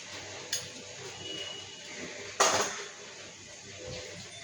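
A spoon stirs sabudana vada mixture in a metal bowl, with two sharp clinks standing out against a faint scraping background.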